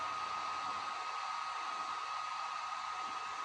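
A heat gun blows a constant, even hiss of hot air while shrinking heat shrink tubing on wiring inside a motorhome, steady and close with no other sounds.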